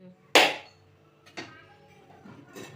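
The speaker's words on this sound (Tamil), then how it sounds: "தேங்காய் உடைஞ்சாச்சு" A coconut is struck hard indoors: one sharp loud crack, then a second weaker knock about a second later and a faint third at the end.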